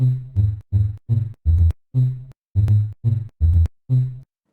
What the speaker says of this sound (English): for the lead sound, I'm using a one shot once again.